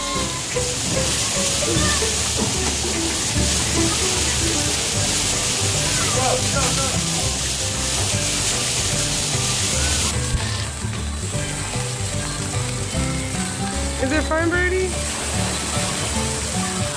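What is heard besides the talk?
water park waterfall bucket filling and splashing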